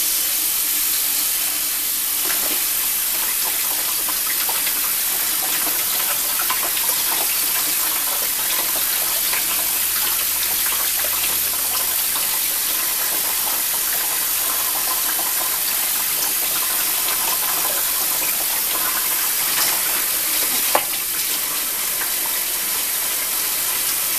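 Tap water runs steadily while tinned food is rinsed for pasta salad, a continuous hissing gush with no speech over it.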